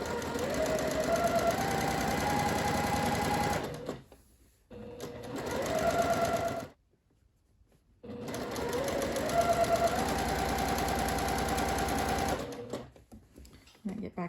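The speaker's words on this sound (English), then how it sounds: "I'm going to up my stitch length to a 4 and sew all the way around the skirt." A sewing machine at stitch length 4 running around the edge of a rainbow seersucker skirt, a loud, close, steady whirring hum in several long bursts separated by short pauses.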